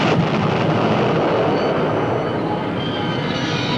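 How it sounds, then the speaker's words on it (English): A train driven at 100 miles an hour into a derailed yellow test flask, heard as a loud sustained roaring, rumbling crash that fades slightly toward the end, with no voices. "they derailed a yellow test flask and drove a train into it at 100 miles an hour"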